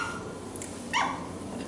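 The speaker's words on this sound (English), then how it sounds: "They're all making lots of barks and noises." A four-week-old toy Aussiedoodle puppy lets out a single short, high yip-like bark close by, over a steady background of rustling and room noise.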